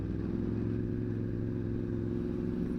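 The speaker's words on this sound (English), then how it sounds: "the twin underseat exhausts sound absolutely lovely" A Yamaha R1 with twin underseat exhausts, decat and carbon end cans sits at a steady, deep, rumbling idle close by, its low throbbing tone unbroken throughout.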